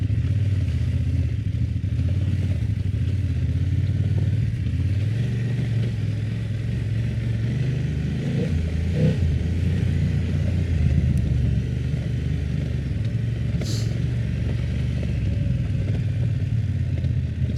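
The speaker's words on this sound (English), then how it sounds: "I think all these bikes seem to rattle off-road." A BMW F900 motorcycle rides off-road through muddy tracks, its engine a steady low rumble under continuous rattling and clatter from the bike, close and unbroken.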